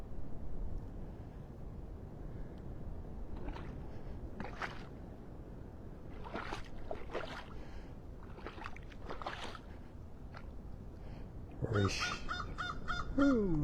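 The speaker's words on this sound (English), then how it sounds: "Just beautiful with the sounds of the birds." Birds calling across Clam Pass in North Naples, Florida in the dim early Sunday morning, scattered caws and cries of varying distance over a low, steady ambient rumble near shallow water.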